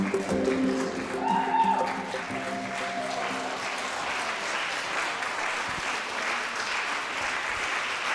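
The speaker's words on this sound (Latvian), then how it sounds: "Visilgākie aplausi, visskaļākās ovācijas." A long, even wash of applause at a sustainability index awards ceremony, a steady crowd ovation throughout, with a brief musical tone and a voice near the start.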